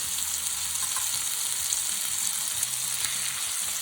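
Honey lime chicken sizzles in a hot cast iron pan, a constant bright crackling fry with low bumps and knocks from the pan underneath.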